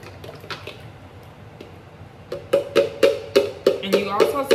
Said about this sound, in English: So I'm gonna go ahead and add this mix that I have already blended.